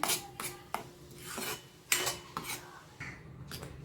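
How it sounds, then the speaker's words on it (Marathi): A ground green masala paste for pomfret gravy is stir-fried in oil in a pan, a spatula scraping and clinking against the metal in uneven strokes, close and fairly loud, with only a faint sizzle beneath. "सर्व वाटण टाकलं आहे मी छान तेल सुटेपर्यंत दोन मिनटं परतून घेऊया"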